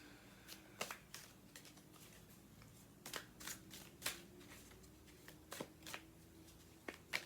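A tarot deck is shuffled at close range, with soft riffling and sharp card snaps at irregular intervals over a quiet background and no talking.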